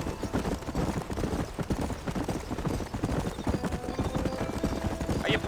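Galloping horse hooves clop in a fast, steady rhythm while riding in Red Dead Redemption Remastered, loud and continuous with a faint whinny near the end.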